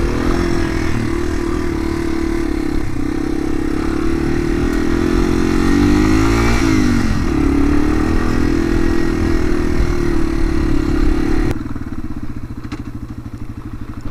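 A dual-sport motorcycle runs steadily along a dirt road, its loud engine droning close up with a brief rising rev midway before dropping to a quieter idle near the end.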